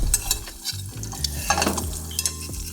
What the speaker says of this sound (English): just baste the top of the egg with the fat that's in the pan